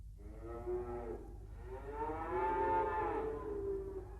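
A cow lets out a long, drawn-out moo in two swelling parts, fairly close and alone with a low steady background hum.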